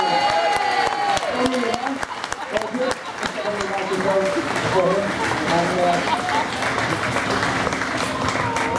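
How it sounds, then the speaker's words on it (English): A crowd applauds steadily at a superbike paddock show, with claps and some cheering, while a voice talks loudly over the clapping. "Give him a big round of applause."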